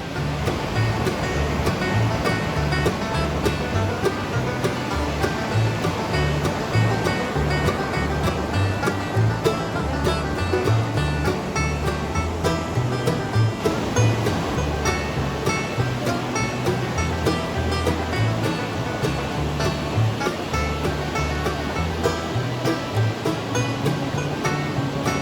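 Sea waves roll and break continuously at Downhill Beach on the Northern Ireland coast, a full, steady roar of surf with rhythmic surges and gusty outdoor noise throughout.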